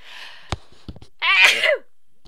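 A single loud, close sneeze bursts out after a few quick sharp breaths and clicks, cut off abruptly in otherwise quiet surroundings.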